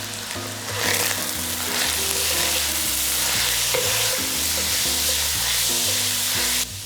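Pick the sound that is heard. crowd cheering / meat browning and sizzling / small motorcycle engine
meat browning and sizzling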